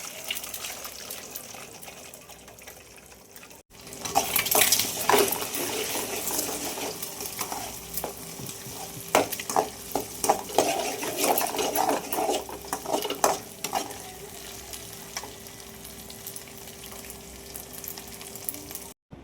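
An egg fries in hot oil in a kadai, bursting into a loud crackling sizzle that then settles into a steady hiss with scattered pops and spatula clicks, heard close up and without talk.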